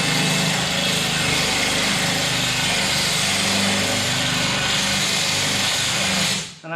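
A drill bit widens a hole in a ceramic tile, running as a loud, steady high-pitched whine that holds without a break and cuts off abruptly at the end.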